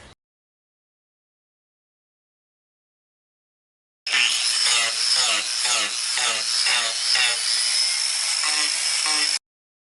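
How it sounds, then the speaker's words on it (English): An angle grinder shapes the underside of a walnut table top, carving a gentle curve. After a few seconds of silence, a loud, steady grinding roar starts and runs close up, with rhythmic pulses as the tool sweeps back and forth across the wood. "So we finished grinding the bottom of the top to give it a bit of a curve."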